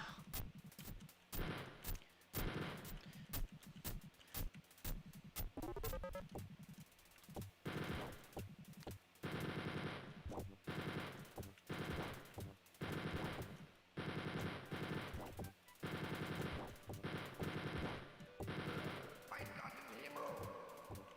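Rapid bursts of automatic gunfire and single shots ring out in the Wolfenstein 3D video game during a boss fight against a mad scientist, loud and repeated in clusters with brief gaps throughout.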